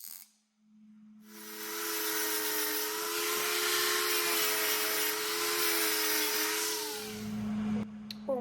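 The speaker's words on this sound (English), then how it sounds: "We're welding the base plate on so the quench tank doesn't tip over" Welding a base plate onto a steel knife quench tank: after a short pause, a steady, loud buzzing hiss with a humming tone runs continuously for several seconds, then cuts off abruptly.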